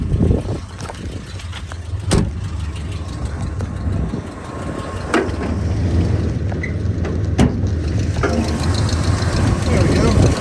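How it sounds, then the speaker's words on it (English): A 1990 Jeep Grand Wagoneer engine idles steadily with a low rumble, while sharp, brief belt chirps come through a few times; a person talks over it. "you can hear that belt chirping a little bit there"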